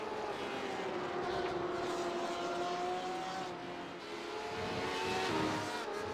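Two GT race cars, a BMW and a Porsche, battle wheel to wheel at Spa in a sim racing endurance event, engines droning steadily with rising and falling pitch as gears change, loud and continuous throughout.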